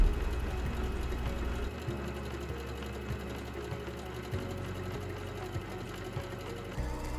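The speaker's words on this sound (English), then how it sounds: "the first step is to zigzag or overlock the inside edge of the front facing." An overlocking sewing machine runs along the inside edge of a fabric shirt facing, a fast, steady mechanical stitching rhythm with a low motor hum and a brief change in pace, close and moderately loud.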